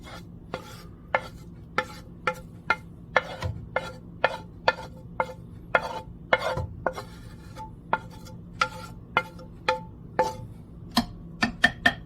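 A spoon scrapes and taps rhythmically through ingredients for tri tip and bean chili, roughly twenty sharp strokes at an even pace, close and fairly quiet with no talk.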